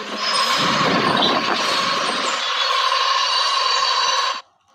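A metro train rushes past close by a small home garden, a loud steady roar with metallic whine and screech that cuts off abruptly at the end.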